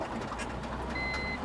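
A vehicle's rear parking sensor gives a short electronic beep over low background noise.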